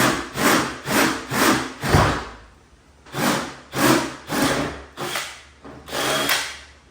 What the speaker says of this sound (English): We've gotten all the holes drilled.